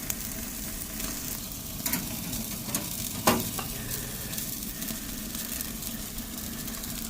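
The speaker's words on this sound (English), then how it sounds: "See how it's searing in there." Whole beef top sirloin sears in a hot pan with a dense, steady sizzle and a few sharp pops and spatter bursts, heard close with no speech.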